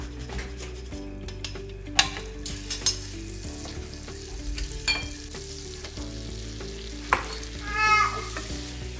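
White sauce sizzles gently in a pan as it is stirred, with soft scraping and occasional clinks of a utensil against the metal, quiet and close with no talking.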